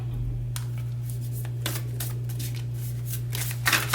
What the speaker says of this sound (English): I don't know why this deck is so hard to shuffle